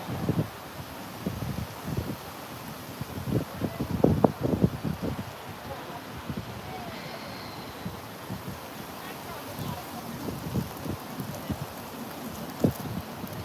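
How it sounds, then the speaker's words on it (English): Strong wind blowing through a park, gusting in irregular bursts that buffet the microphone with low rumbling thumps and a rushing, rustling hiss. "It's so windy."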